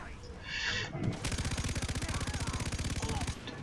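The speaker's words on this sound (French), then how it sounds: "La mitrailleuse? Genre une mitrailleuse." Machine gun fire in the video game Far Cry 3 comes as a loud, steady, rapid burst of evenly spaced shots lasting a couple of seconds, preceded by a brief whooshing sound.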